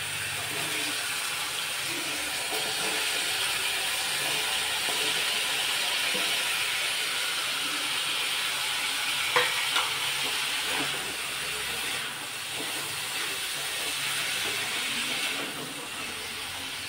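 Vegetables salted and frying in a covered pan give a steady, close hiss of steam and sizzle throughout, broken by a couple of brief clicks partway through.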